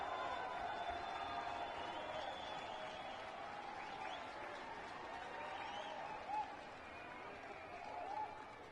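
A baseball stadium crowd cheers and roars for Detroit Tigers pitcher Michael Fulmer against the Kansas City Royals, a dense, sustained wash of distant voices and applause with small surges.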